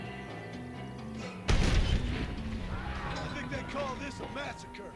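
Rifle gunfire in Red Dead Redemption, a single heavy boom that rings out and decays amid game ambience and music, with someone talking throughout.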